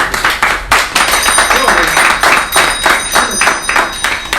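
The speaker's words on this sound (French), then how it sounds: "Applaudissez un peu la parole." A church congregation clapping during a sermon, a run of rhythmic, fairly sharp handclaps at a steady beat, close and loud, with voices mixed in around the claps.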